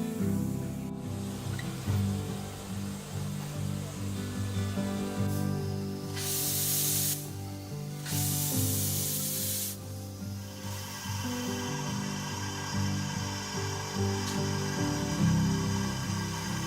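A steam locomotive on the Oregon Coast Scenic Railroad vents loud bursts of hissing steam over a steady low mechanical rumble, with two strong blasts in the middle of the stretch and no voices.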